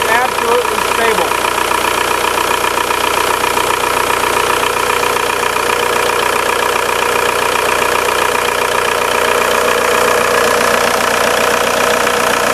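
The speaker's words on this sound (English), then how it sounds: "show you how smooth the belt is with the declutched pulley operating properly" A VW Jetta TDI diesel engine idles steadily with a declutched alternator pulley, a continuous even mid-range hum and knock running close and loud throughout without breaks.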